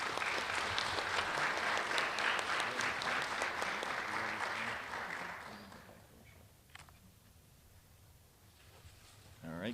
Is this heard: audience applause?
yes